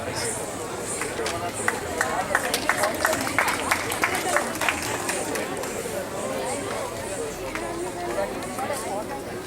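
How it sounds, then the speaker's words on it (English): Audience applause at a youth fest during a Dharma and Yoga Fest in Santa Clara: steady, dense clapping mixed with crowd chatter and murmur, sustained at even loudness throughout. "Please give him a round of applause"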